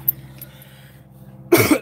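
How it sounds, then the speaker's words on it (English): A person coughs once, a short, loud, harsh burst near the end after a quiet stretch. "As you guys can see, I got a cough."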